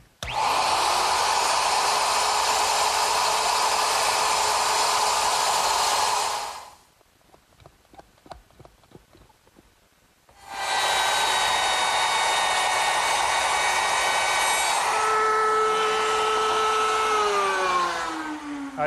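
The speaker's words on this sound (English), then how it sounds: "I'll complete the cut with my router" A handheld router cuts a dovetail in the end of a wooden rail along a clamped plywood guide, giving a loud, steady high-pitched whine. It spins down into a few seconds of quiet handling noise, then starts up again and screams on to the end.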